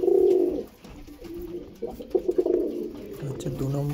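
Adult breeder pigeons with pearl-type eyes, a mated pair in a loft, coo up close in a few low, throaty rolling phrases, with a faint voice in the background.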